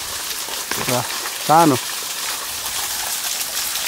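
Steady wide rush of falling water from a waterfall at Ranipauwa in Nuwakot, a constant hiss filling the scene, with someone speaking briefly over it.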